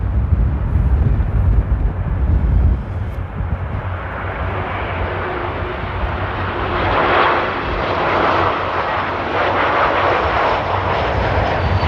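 A fixed-wing airliner arriving at Amsterdam Airport in strong crosswind, its engines a loud continuous roar that swells and shifts as it passes close by, with wind noise mixed in.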